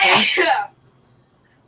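A single sharp sneeze bursts out close and loud, followed by near silence and a brief sound at the very end.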